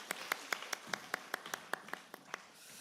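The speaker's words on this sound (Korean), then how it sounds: "우리 박수로 축하하겠습니다" A congregation claps in a church service, with roughly a dozen sharp, evenly spaced claps that stay moderately loud over a quiet room for about three seconds.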